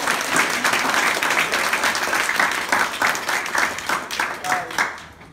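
An audience at an indoor talk on YouTube success breaks into loud, dense applause that holds steady, then thins into scattered claps and fades out.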